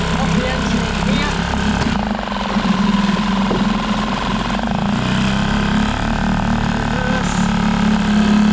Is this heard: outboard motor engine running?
yes